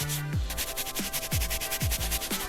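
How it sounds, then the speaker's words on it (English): Rhythmic back-and-forth scrubbing of a stiff carpet and upholstery brush on a fabric car seat, several quick strokes in a row, close and fairly loud. "we're going to go ahead and agitate with our carpet and upholstery brush."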